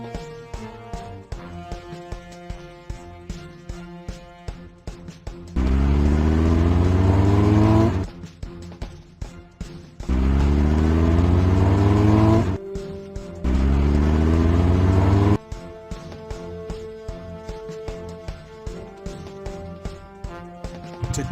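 Cartoon fire truck engines in a Paw Patrol and Blaze children's video game rev loudly in three sustained bursts, separated by stretches of game music with no talking.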